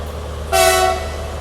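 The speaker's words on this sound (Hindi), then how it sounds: "मॉन्स्टर आ रहा है अपना WDG4G, WDG4 के बगल से WDG4G।" WDG4G diesel locomotive on an Indian main line sounding one short, loud horn blast over a low engine rumble.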